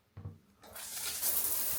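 A shower switched on with a faint click, then water gushing steadily and filling out into a continuous hiss that holds to the end.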